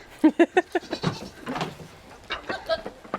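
A goat bleats in a quick run of four loud, close calls, followed by several softer, more scattered bleats, with faint background voices.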